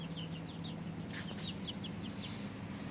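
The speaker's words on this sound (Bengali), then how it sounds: "মুরগির বাচ্চা" Young chicks peep in quick, repeated high chirps nearby over a low background hum, with one brief rustle partway through.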